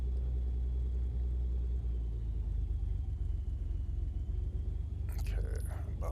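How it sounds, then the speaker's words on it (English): The propeller engine of a Carbon Cub in the X-Plane 11 flight simulator runs with a loud, steady low rumble after a burst of throttle, continuing without a break, with a short clatter near the end. "Prop clear. Whoa. A little bit too much throttle there."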